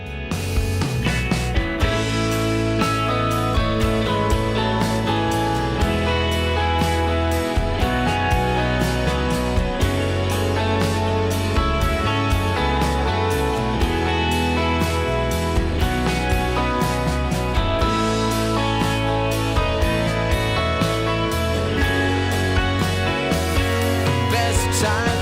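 A song plays steadily throughout: melodic folk-flavored pop rock with rich harmony vocals, a subtle guitar and a nice bass line, full and loud with no talking over it.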